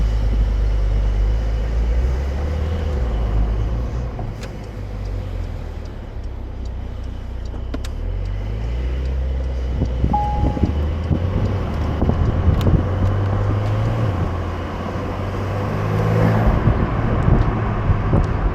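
A Porsche 911 Carrera 4S Cabriolet drives along with a steady low engine and road rumble, mixed with wind buffeting on the microphone and a few faint ticks, no talking.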